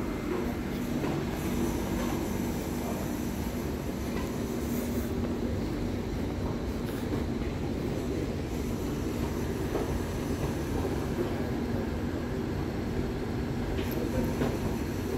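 An ÖBB REX1 double-decker regional train rolls into a platform, giving a steady, loud rumble of wheels on rail with faint squeal, continuous throughout with no talking.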